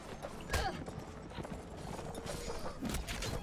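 Horse hooves clip-clop in The Last Days of the Third Age game, a steady trotting rhythm with a couple of sharper thuds, heard close amid game ambience and a faint whinny-like tone.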